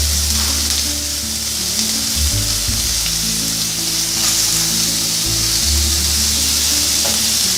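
Chopped onions sauté in sesame oil for a chutney, making a loud, continuous sizzling hiss throughout. Low melodic music plays underneath, and no one speaks.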